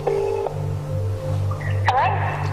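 A telephone is dialed to call a sister from a secure seclusion unit, with a steady tone and short electronic beeps followed by a rising warble, heard close over a constant background hum.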